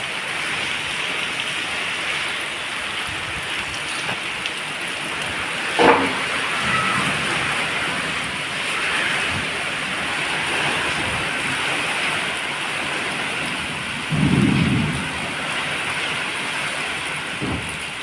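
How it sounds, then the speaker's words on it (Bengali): Heavy rain in a Kalbaishakhi storm in Bhola pours onto a rooftop where water has pooled, making a steady, dense hiss throughout, with a brief low rumble late on. "অনেক বৃষ্টি হইতেছে এই জন্য ছাদে পানি জমে গেছে"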